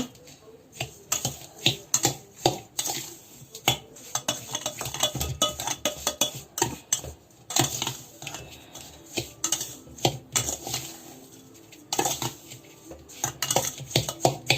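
Rava idli batter with curd being stirred in a bowl, a run of close rhythmic scraping and tapping strokes of a spoon against the vessel, repeated steadily with brief pauses and no speech.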